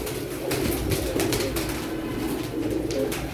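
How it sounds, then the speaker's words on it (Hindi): A Sialkoti pigeon from a mated pair, held in someone's hand, coos in low, steady, rolling murmurs that run continuously and close by, with no voices over it. "एक हाथ में कबूतर पकड़ा हुआ।"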